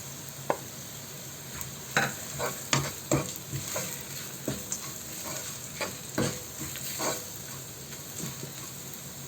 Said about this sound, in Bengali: পেঁয়াজগুলি ভাজা হয়ে গিয়েছে আমি এখন দিয়ে দেব মরিচের গুঁড়া এবং পরিমাণ অনুযায়ী লবণ